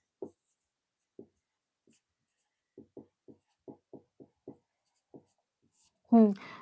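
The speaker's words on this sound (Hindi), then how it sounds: "दैत्य लिख देती हूँ।" Chalk or marker taps and scratches on a board in short, faint strokes, spaced irregularly, with a voice speaking at the end.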